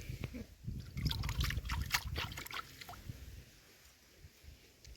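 Groundwater trickles and splashes from a borehole pipe at a rural Lao home, a steady close pour that fades somewhat toward the end.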